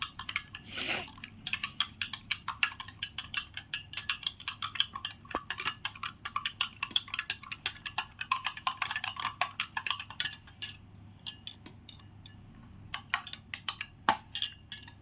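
A spoon stirs a mixture in a glass of water, making a fast run of light, bright clinks against the glass. The taps come close and quiet, pause briefly near the end, then start again.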